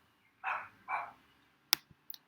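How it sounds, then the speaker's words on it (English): A dog outside in a backyard gives two loud, drawn-out barks in quick succession, followed by a few sharp clicks or knocks nearby. "he's been having just a great time barking at all the people who are walking around"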